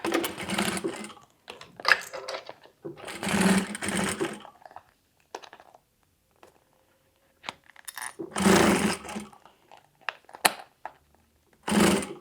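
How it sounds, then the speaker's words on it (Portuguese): Sewing machine stitching around a Montana fabric phone holder, running in several loud bursts of a few seconds each separated by quiet pauses, with faint handling noises between runs. "é só a gente finalizar fazendo uma costura ao redor aí de toda a nossa peça"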